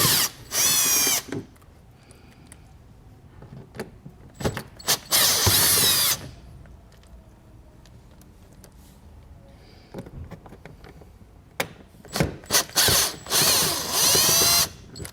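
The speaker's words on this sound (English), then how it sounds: "we've got 4 fasteners we're gonna remove using a T20 Torx" A power driver removes T20 Torx fasteners from the fender liner of a 2020 Chevrolet Sonic, in several loud whirring bursts separated by quieter handling noise and clicks.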